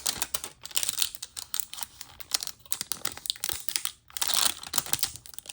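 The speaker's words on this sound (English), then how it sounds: "You do want to be careful when peeling this off so that you don't leave any tape behind." Tape being peeled off a UV resin bookmark with bezels, a continuous close crinkling and crackling with rapid irregular ticks, briefly pausing once before resuming, with no voices.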